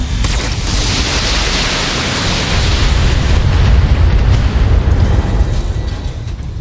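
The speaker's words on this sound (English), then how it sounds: "Firing full complement on enemy." Mech weapons fire and explosions in the BattleTech video game form a continuous loud, roaring rumble of blasts and booms that swells slightly midway and holds dense and heavy throughout.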